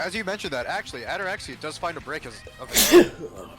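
A single sharp, loud sneeze bursts out near the end, right after a stretch of fast talking by an esports caster.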